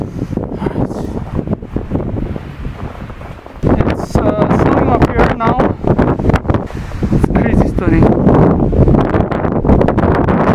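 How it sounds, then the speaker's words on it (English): Strong wind roars over a winter mountain trail on Seoraksan, buffeting the microphone in a loud, continuous rush that swells stronger after the first few seconds, with no other sounds standing out. "the wind is crazy"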